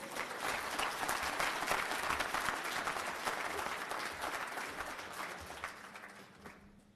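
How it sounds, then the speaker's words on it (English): Audience applause at a book launch at the Hage Geingob Presidential Center, a dense, steady clapping from a full room that holds strong and then slowly tapers off toward the end. "Please give her a round of applause"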